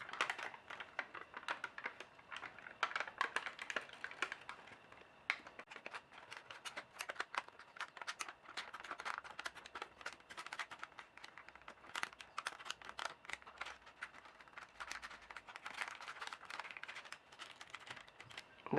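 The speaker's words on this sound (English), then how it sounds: "I'm going to fold them over the center of the paper" Origami paper being folded and creased over its centre for a golden spinner model, giving soft crinkles and sharp creasing rustles that come in bursts throughout, close and quiet, with no talking.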